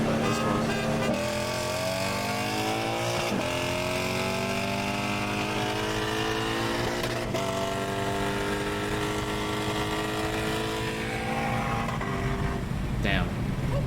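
A tuned race car with an IS38 turbo on a 93 tune accelerates hard, its engine revving up through rising pitch sweeps with brief breaks between gear shifts, loud and close throughout.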